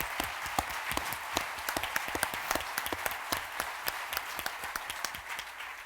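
A breakfast crowd at a startup week kickoff applauds the organizing committee, scattered individual claps standing out sharply over a thinner bed of clapping that holds steady and fades slightly at the end.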